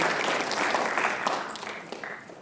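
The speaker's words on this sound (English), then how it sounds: "let's give both Rishi and Jack another round of applause" A school audience of students at a writers expo claps together, a dense burst of applause that is strongest at first and then gradually tapers off.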